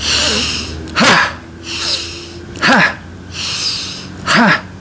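Three loud, deliberate breaths, each a long inhale followed by a forceful voiced exhale, spaced evenly apart, close to the microphone.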